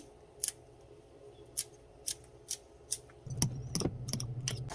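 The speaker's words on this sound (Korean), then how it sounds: "부추가 좀 있어가지고 잘라 넣을게요" Scissors snip chives into a dish, giving about five sharp, evenly spaced clicks close by, followed by a quick cluster of faster cuts over faint kitchen background.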